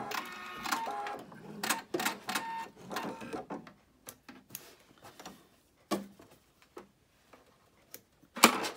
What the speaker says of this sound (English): I'm going to sew across, but I'm going to leave open a section to trim it